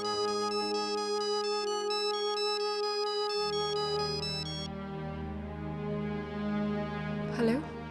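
A phone ringtone plays a steady repeating melodic tone, moderately loud, then a sustained chord underneath continues with faint voice-like sounds near the end.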